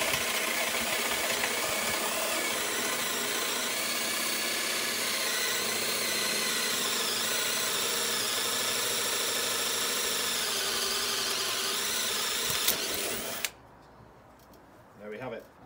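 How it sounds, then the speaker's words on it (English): A 25mm Pro-Fit hole saw grinds steadily through material for about thirteen seconds, loud, close and continuous, then stops abruptly, leaving quiet room noise and a faint rustle. "Absolutely fantastic hole saws. Nice cut straight through."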